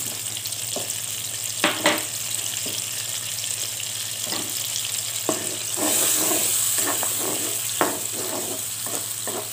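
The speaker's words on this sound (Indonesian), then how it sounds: "bumbu halusnya kita tumis hingga benar-benar matang, hingga benar-benar keluar aromanya ya" Ground spice paste sautés in a pan with a steady moderate sizzle, broken by intermittent scraping stir strokes, close and without voices.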